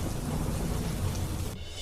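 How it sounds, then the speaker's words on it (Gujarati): Heavy rain with strong wind pours down during a thunderstorm over villages near Atkot and Sanathali in Jasdan, Gujarat. A dense, steady roar of downpour fills the air, then drops away abruptly just before the end. "ભારે પવન સાથે વરસાદ પડ્યો"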